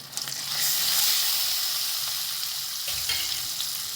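Spices sauté in a hot pan with a little turmeric for drumstick kadhi, giving a steady close sizzle and frying hiss with faint stirring scrapes throughout.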